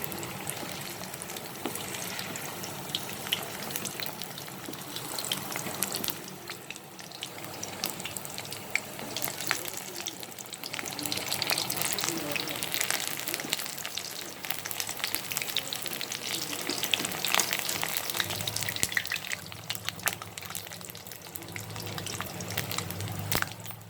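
Onion pakoras fry in hot oil with a soft, steady crackling sizzle. Small pops and bursts come and go over a long, fairly quiet stretch with no speech.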